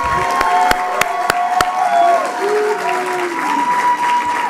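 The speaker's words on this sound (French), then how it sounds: "Applaudissez la prod tout seul pour un moment" Loud applause and cheering from an esports gala crowd in Quebec, dense steady clapping with a few sharp whoops and voices rising above it.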